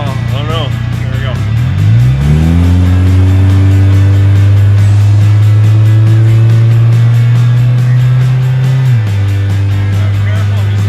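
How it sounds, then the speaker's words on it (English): A brand new car driving along a narrow one-lane farm road, engine droning loud and close with steady pitch after a rising shift, while people talk inside the cabin. "she drives like a fucking brand new car"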